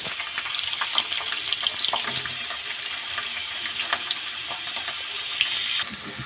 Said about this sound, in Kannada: ಸ್ವಲ್ಪ ಇದನ್ನು ಫ್ರೈ ಮಾಡ್ಕೊಳ್ಳೋಣ ಈರುಳ್ಳಿ ಬೆಳ್ಳುಳ್ಳಿ ಕರ್ಬೇವು ಸಾಸಿವೆ ಜೀರಿಗೆ ಸ್ವಲ್ಪ ಚೆನ್ನಾಗೆ ಫ್ರೈ ಮಾಡ್ಕೊಳ್ಳೋಣ